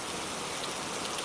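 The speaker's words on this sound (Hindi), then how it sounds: "बाहर बारिश और तेज हो गई।" Heavy rain falling steadily outside, a dense continuous hiss of drops on surfaces with no pauses, fairly quiet and even throughout, with no voices.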